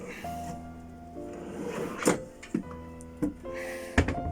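Drawers sliding open and shut in the kitchen of a 2021 Roller Team Zefiro 266 TL motorhome, giving several short clunks and knocks about half a second apart, close by, over steady show-hall hum and a faint tone.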